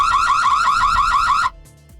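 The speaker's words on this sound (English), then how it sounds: "Let me activate the alarm." A rechargeable security camera's loud electronic siren warbles rapidly up and down for about a second and a half, then stops abruptly, leaving near silence.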